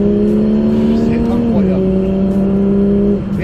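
A Porsche GT3 RS on semi-slick tyres holds a loud, steady engine drone on a race track, pitch shifting as it changes gear, while someone talks over it inside the car.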